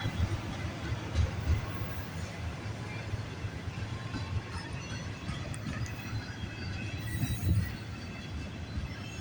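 A CN freight train of empty auto rack cars rolls past the VIA station in Sarnia, Ontario, with a continuous low rumble and faint wheel squeal, steady and somewhat distant, with a couple of louder swells.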